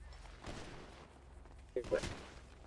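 In the FiveM game, a short burst of gunfire cracks out partway through against a low background hum, with a couple of sharp reports close together.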